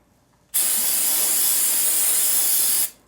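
A single long burst of brake cleaner spray on a brake rotor during a Kia/Hyundai brake service, a loud, close, even hiss that starts abruptly and cuts off after a little over two seconds.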